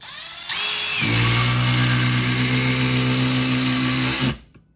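A Milwaukee M12 Surge impact driver drives a 3.5 inch Phillips head wood screw in one continuous, loud, close whir lasting about three seconds before stopping abruptly.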